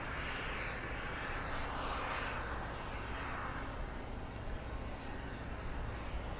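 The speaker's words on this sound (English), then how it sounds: "Little Viva Airbus trying its best to steal the spotlight." Viva Aerobus airliner at LAX, a broad steady jet engine roar with rushing noise, moderately distant and constant with no talking.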